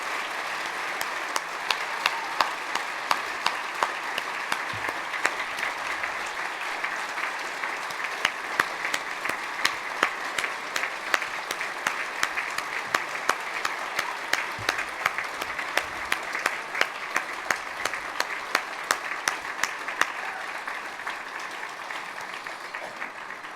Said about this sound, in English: Carrie and Scott, please stand up as we applaud